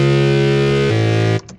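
An aggressive stock synth preset in FL Studio, cutoff fully open and distortion engaged, blares as a loud sustained buzzing chord that shifts pitch once midway, then cuts off abruptly, leaving a brief stuttering tail.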